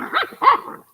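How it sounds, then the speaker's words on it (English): Two sharp barks from a dog, close and loud, one after another within a second with nothing else heard. "Glad the dogs are back from their spa day."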